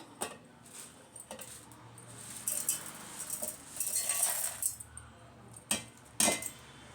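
Fried chillies and roasted lentils tipped into a steel mixer jar for curry leaf chutney powder, giving scattered metallic clinks and taps, a rattling pour in the middle, then two sharp knocks near the end, close and without speech.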